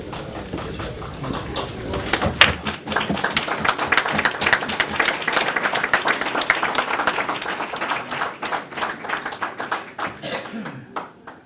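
A crowd at a city council meeting applauds firefighters with sustained, dense clapping that swells and then gradually thins, with voices faintly mixed in.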